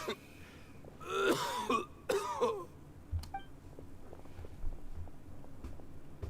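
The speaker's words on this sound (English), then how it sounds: "Why is he coughing so much?" A man coughs and clears his throat in two rough, hacking bursts, followed by a soft beep and quiet background hum, from the video game Genshin Impact.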